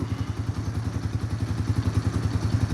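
A small ATV engine idling steadily after warming up, a low even chugging pulse repeating rapidly and close by, with no voices.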